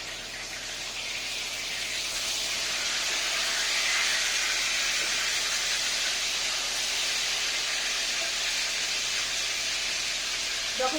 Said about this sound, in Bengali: মাছ এদিকে ভাজা হচ্ছে